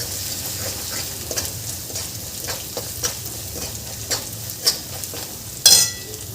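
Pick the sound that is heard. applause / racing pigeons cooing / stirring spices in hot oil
stirring spices in hot oil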